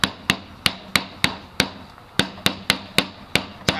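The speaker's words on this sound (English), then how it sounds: "Tap them all down." A hammer taps staples flat into the wooden frame of a stretched canvas, about a dozen sharp, evenly spaced knocks in a steady rhythm, close and clear with no talking.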